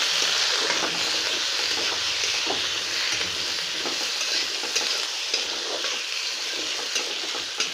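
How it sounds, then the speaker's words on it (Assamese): Potatoes fry in a pan with onion and garlic, giving a continuous close sizzling hiss with soft, occasional stirring scrapes, steady and fairly loud throughout with no voices. "আলুখিনি আকৌ ধুনীয়াকৈ ভাজি ল'লে"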